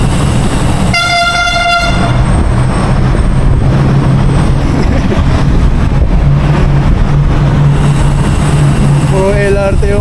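A light rail (LRT) train passes nearby in a city, heard from a bicycle ride at an expo outing. The loud rumble of the train runs steadily throughout, with horn blasts at the start and near the end.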